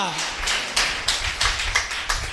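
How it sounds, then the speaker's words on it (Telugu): A church congregation at Sunday worship claps hands in a steady rhythm, several sharp bursts about a third of a second apart, with voices murmuring underneath. "సాక్ష్యం చప్పట్లు కొట్టండి"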